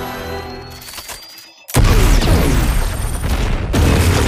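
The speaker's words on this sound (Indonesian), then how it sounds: "Sebuah tembakan seketika melenyapkan Aratari." A single heavy gunshot from a new weapon in a film: a sudden loud blast after a quieter stretch, followed by a sustained roaring, crackling wash of sound.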